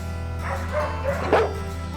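A pit bull barks and yips a few times at close range, short sharp calls over a steady low hum of background noise.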